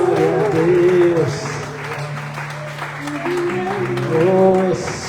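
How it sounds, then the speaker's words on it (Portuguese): A congregation at an evening church service applauds, with clapping under sustained music and singing voices that dominate the mix. "Você pode aplaudir o Senhor."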